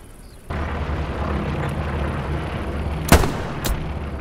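Artillery shells firing and exploding in the World War II shooter Hell Let Loose, on the Kursk map: a steady rumbling battlefield roar, then two sharp, loud booming blasts close together near the end.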